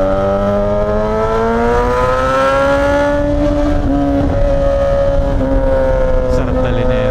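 A Suzuki GSX-S1000 motorcycle engine revs loudly and continuously at close range, its pitch climbing and holding steady. Brief talk is heard over the roar.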